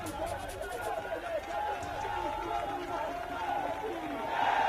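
Large crowd of Maratha protesters gathered on a march toward Mumbai, a dense, continuous roar of many voices and movement, loud and close, swelling slightly toward the end with indistinct shouting over it.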